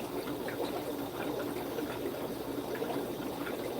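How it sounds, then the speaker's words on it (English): Water runs steadily into a fish fry tank during a slow water change, a soft continuous trickling and splashing close by without any voices. "So now I have water just coming in."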